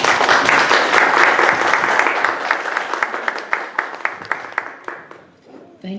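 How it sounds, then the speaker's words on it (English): Audience applause for speaker George Christensen at a presentation, a dense burst of clapping from a room full of people that gradually thins into scattered claps and dies away. "let's give a round of applause for George"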